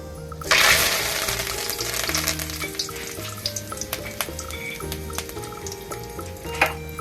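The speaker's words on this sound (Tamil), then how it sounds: "எண்ணெய் சூடானதும் கொஞ்சமாக கடுகு கருவேப்பிலை" Mustard seeds and curry leaves hit hot oil for karuvattu kulambu, bursting into a loud close sizzle that fades into steady crackling and popping with occasional sharp spits, heard alone.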